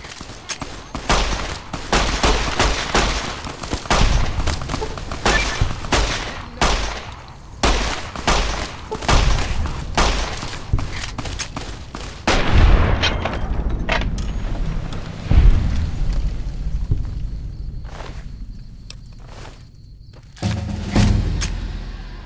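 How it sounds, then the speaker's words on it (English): Sustained enemy gunfire in Fallout: New Vegas, with dense volleys of close, loud shots, bursts of automatic fire and occasional heavy thumps, pausing briefly before more scattered shots, with no talking over it. "You guys are shooting at me. Why are you shooting at me?"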